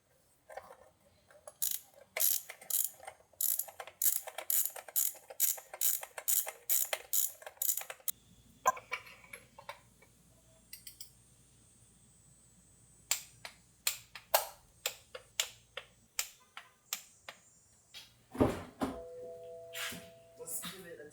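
NGK spark plugs being fitted into a Toyota GR Supra engine, a close series of quick ratchet clicks in bursts with pauses, metallic tapping, and a voice speaking in places.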